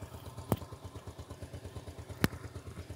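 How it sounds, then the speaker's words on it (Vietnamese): A motorcycle idles close by with a steady, even low putter, broken by two brief sharp clacks. "Rồi mình sẽ cho cả nhà nghe tiếng máy em nó nha."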